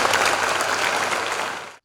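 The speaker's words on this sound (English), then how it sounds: "give a very big smile and a big round of applause for yourselves" Steady, loud applause from an audience of students at a Children's Day conference, dense clapping that fills the room for nearly two seconds before cutting off abruptly.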